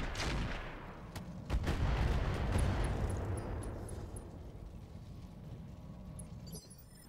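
Video game gunfire during a convoy ambush mission: one heavy, booming artillery-like shot with a long rumbling decay, then a second blast that trails off slowly into quiet.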